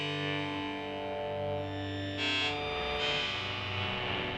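A PolyWave synthesizer sustains a buzzy, harmonically rich tone with FM modulation, its timbre shifting brighter and grittier partway through as modulation is added, playing alone without talk.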